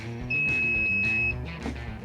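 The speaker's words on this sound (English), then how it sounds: "Once you hear that beep, then it's set to maintain that temperature." A pellet grill controller gives a single sustained electronic beep for about a second over a low steady hum.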